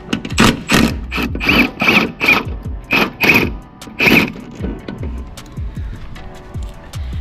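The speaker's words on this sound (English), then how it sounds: "we're using an electric gun. I'm going to start by removing the bolts on the frame." An electric impact gun removes bolts from a car frame during a camber kit install, firing a series of short, loud, rattling hammering bursts in quick succession up close, then quieter metallic clicks as the tool settles.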